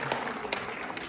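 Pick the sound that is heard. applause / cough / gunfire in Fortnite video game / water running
applause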